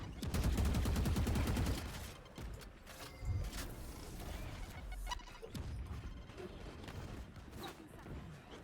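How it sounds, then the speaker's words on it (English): Rapid video game gunfire during a tournament gunfight, dense bursts of shots that are loudest in the first two seconds, then scattered cracks, clicks and mechanical noises under quieter action. "There's a lot of gunfights going on."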